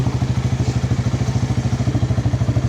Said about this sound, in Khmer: ម៉ាស៊ីនឆេះស្ងាត់ល្អ